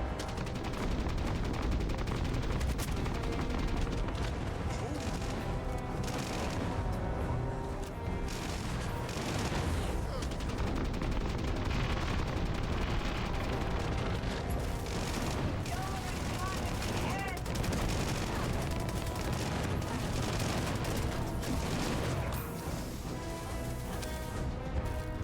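Rapid gunfire from a Starfield gunfight, dense bursts of shots and impacts sustained at high level throughout, with voices talking underneath the constant crackle.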